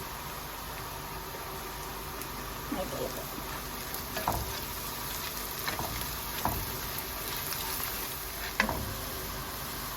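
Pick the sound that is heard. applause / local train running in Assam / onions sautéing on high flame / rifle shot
onions sautéing on high flame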